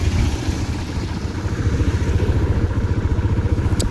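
A motorbike rides along a road with a young child aboard, its engine a steady, loud, close drone with a rhythmic low throb and continuous road rumble throughout.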